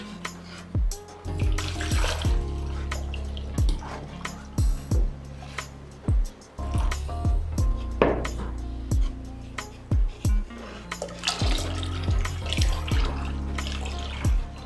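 Water poured in repeated bursts into a homemade hair conditioner mixture, splashing and gurgling close by between pauses, with sharp clinks and knocks of mixing in between.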